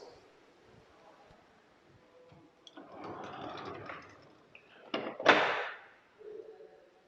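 An aluminum folding glass door of the 80 series is slid shut, with a rolling rumble of the panels followed by a sharp clack as they meet, then a softer rattle; no talking.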